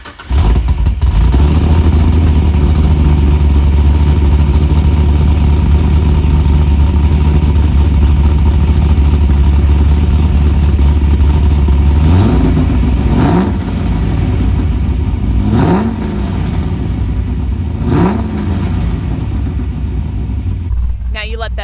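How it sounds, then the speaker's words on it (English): A car with long-tube headers and no mufflers or catalytic converters cold-starts into a loud, deep, rumbling idle. Three sharp throttle blips later rise and fall back, and the engine settles lower afterward. "So this is a cold start with the current exhaust."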